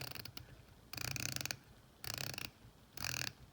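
Titanium dive watch bezel being turned, a quiet 120-click ratchet giving three short bursts of rapid fine clicks separated by brief pauses.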